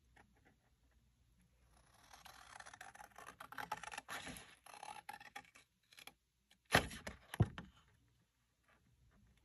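Scissors snip a thin sliver out along a score line on craft paper for an album project, giving a few close, crisp cuts and rustles, strongest in two sharp bursts near the end.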